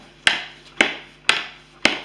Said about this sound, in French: à chaque fois qu'ils mettent des goodies qui sont en verre